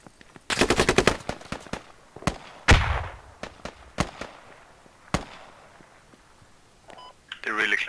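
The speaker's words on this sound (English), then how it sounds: "They are shooting FOB site with the grenade launcher." Grenade launcher and small-arms fire at a forward operating base in the tactical shooter Squad: a rapid burst of shots, then several loud, separated blasts and sharp reports, with voices over the gunfire.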